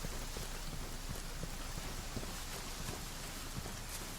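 Steady, dense rain pours down in the Monster Hunter World video game, a constant hiss of drops on surfaces with no break and no voices.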